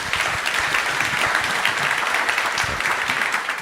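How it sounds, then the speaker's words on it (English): Audience applause after a panel discussion at an investment summit, a steady dense clapping from a large crowd that holds at an even level throughout with no talk over it. "can we give them a round of applause"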